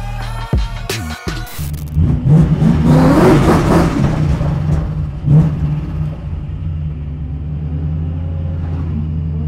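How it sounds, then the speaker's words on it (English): A powerful 900 bhp V8 Ford Mustang drift car engine revs hard and rises to a loud roar, then settles into a steady deep rumbling idle, close by and alone. "Dave Egan's Ford Mustang. What is this thing gonna be like?"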